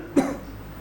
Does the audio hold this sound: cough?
yes